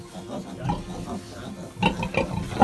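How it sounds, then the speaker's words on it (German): A sow and her piglets grunting in a barn stall, low snuffling grunts and sharper squeals close by, growing busier toward the end, with a person talking among them. "Wir haben deine Ferkel einfach jetzt mit dir umgezogen hier in den Stall."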